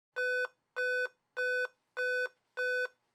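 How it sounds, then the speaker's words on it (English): A 2010 Dell 2-in-1 laptop with a bad CMOS battery sounds a five-beep error code: five loud, identical electronic tones in an even, regular rhythm against silence. "We're getting 5 beeps there, which I looked up on Dell's website. That corresponds to a bad CMOS battery."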